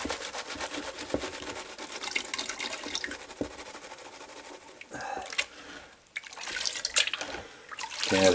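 Water sloshing and splashing as dirt is rinsed in a big bucket while sifting for gemstones, a busy wet churning with several louder splashes toward the end.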